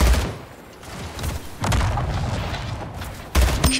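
Booming rocket launcher blasts from a first-person shooter game, with two or three loud explosive hits separated by a rumbling, noisy game background.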